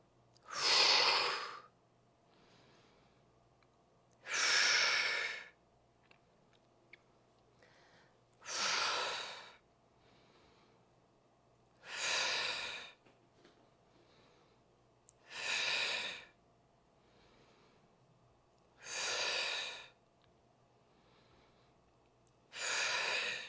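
Deep, audible breaths during a full-body workout, eight loud airy exhales spaced about every three to four seconds, each drawn-out rush of air separated by near silence.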